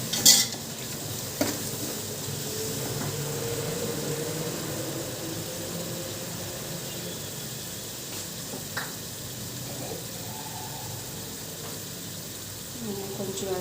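A ladle stirs and mixes coconut biryani in a pot with soft scraping and sizzling, under a steady kitchen hum and a few sharp metal clinks.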